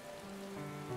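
Soft, steady rain falls in the video game Final Fantasy XIV, a faint continuous patter with a low hum underneath for about a second.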